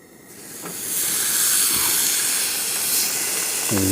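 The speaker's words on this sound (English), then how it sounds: "Wow, what a sizzle we got there." A loud, broad hiss swells up within the first second and holds steady as a steak sizzles on a very hot pan, with a few faint clinks.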